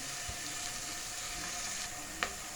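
Chopped onion softening in oil in a pan for a shrimp dish, a steady, even sizzle that holds unbroken throughout, close and moderate, with one brief sharp tap near the end.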